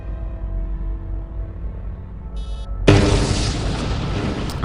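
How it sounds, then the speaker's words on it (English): A single heavy explosion bursts in Star Wars Jedi Knight: Jedi Academy, knocking down rocks. A sudden loud boom follows a low, quiet game ambience and dies into a rumbling, hissing tail. "That was a useless explosion that just put some rocks in our way"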